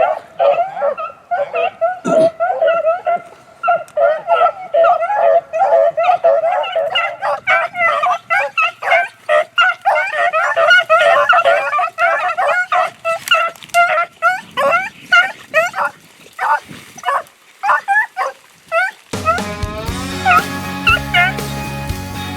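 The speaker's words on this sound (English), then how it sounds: "Look at those dogs up in the windrow." A pack of hunting dogs bays and yips continuously while chasing a rabbit through a hedgerow on river bluffs, barks overlapping at varying distances, before an abrupt shift to other noise at the end.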